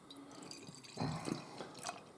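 Strawberry ale is poured into a glass, a quiet, close trickle and splash of liquid that swells briefly in the middle before tapering off, with faint background noise.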